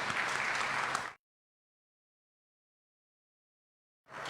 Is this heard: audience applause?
yes